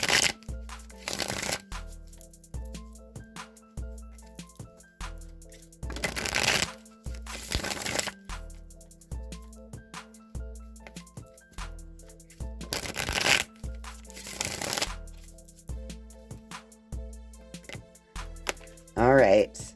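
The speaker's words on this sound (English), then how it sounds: "I'm going to shuffle the music cards now" Oracle music cards for a tarot reading are shuffled in repeated riffling bursts every few seconds, over steady background music.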